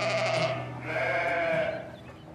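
Caussenarde ewes on a farm flock of about 500 sheep bleat in overlapping, drawn-out calls, two or three loud nearby cries swelling and fading in turn with no talk over them.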